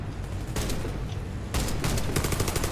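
Rapid automatic gunfire in a co-op PvE shooter match in Pripyat, loud close bursts of repeated shots in two long volleys with a short quieter gap between them.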